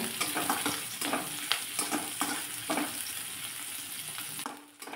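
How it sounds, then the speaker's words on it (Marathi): Chopped onion fries with garlic in a pan, a steady close sizzle with scattered stirring scrapes and clicks that goes on without a break and fades slightly at the end, with no talking. "थोडासा लालसर कलर येईपर्यंत कांदा मी परतून घेतलेला आहे"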